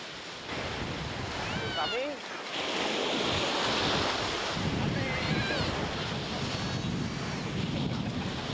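Sea waves wash steadily onto the wild, undeveloped sand of Quỳnh Lập beach in Nghệ An, Vietnam, a continuous loud surf roar with strong wind buffeting the microphone throughout.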